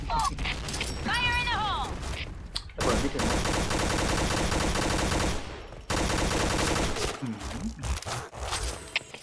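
Rapid bursts of gunfire from the Pink Dragon special gun in a shooter video game, loud and sustained across most of the clip with a brief gap, under excited talk.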